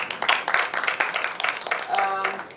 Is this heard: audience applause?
yes